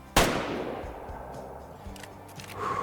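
A single sharp gunshot at mallards in the hunting game Way of the Hunter 2, loud and sudden, trailing off into a long fading echo over quiet ambience.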